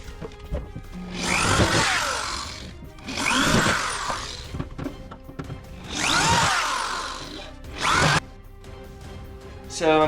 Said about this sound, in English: So I'm drilling small holes,